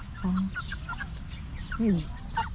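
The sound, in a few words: chickens clucking while being fed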